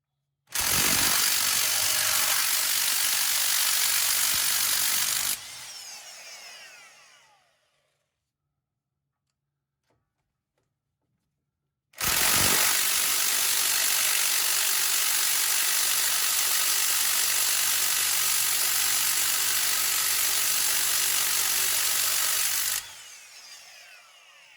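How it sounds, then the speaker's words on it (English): A ratchet with an 18mm socket works loose bracket bolts torqued to 80 foot-pounds: two long, loud, harsh mechanical runs, about five and eleven seconds, separated by silence. "I'm using an 18mm socket, and these bolts are torqued to 80 foot-pounds"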